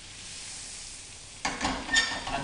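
Butter dropped into a hot pan beside salmon, its faint hush jumping to a bright crackling sizzle that keeps popping and spitting up close.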